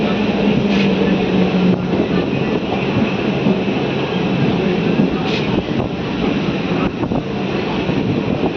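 The Korba–Yelahanka special train waits at a signal on a line through Kurnool, a loud continuous rumble and hum steady throughout with wind buffeting the microphone.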